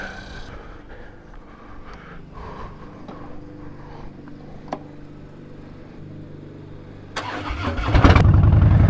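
A car engine cranks and catches near the end after a stretch of quiet interior rustling, settling into a loud, rough low rumble as it fires up.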